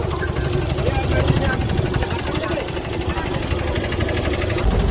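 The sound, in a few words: boat engine as the boat leaves the ghat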